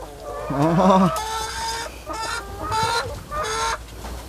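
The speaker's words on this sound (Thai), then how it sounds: "ไก่ไข่ก็มีนะครับ พี่น้อง" Laying hens on an integrated smallholding farm cluck and squawk in a run of loud, close calls, with a faint voice in the background.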